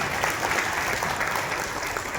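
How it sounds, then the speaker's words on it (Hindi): Audience applause at a sales meeting after a product pitch, a continuous fairly loud patter of many hands clapping at a steady level, with no speech over it. "ऐसे हमारे प्रोडक्ट पर जोरदार तालियां सभी प्रोडक्ट"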